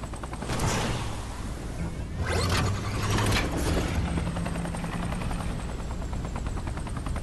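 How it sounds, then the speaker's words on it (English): A helicopter in the video game Fortnite gives a steady, loud whirring rotor drone throughout, with a few sharp bursts that may be gunfire. "Oh, I just bought that sick new chopper as well."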